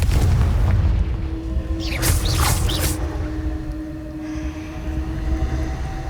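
A Confringo blasting spell goes off in the Hogwarts Legacy video game, a loud booming blast with a whooshing, crackling burst over a deep rumbling game soundscape, close and heavy.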